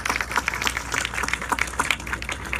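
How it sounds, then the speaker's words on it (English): An audience at a September 11 remembrance event applauds staff and volunteers, a thin, steady patter of many hands clapping at moderate distance without voices on top. "Give them a round of applause too"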